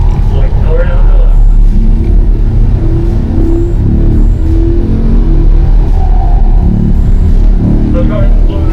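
A Corvette C8 accelerates out of a corner on a race track, its engine a loud, deep, continuous rumble, with a voice talking over it.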